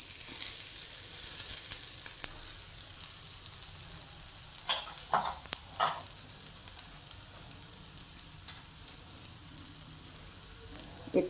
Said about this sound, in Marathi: आता आपण हे वाटलेलं वाटाणा आणि चणा ते आपण परतून घेऊ।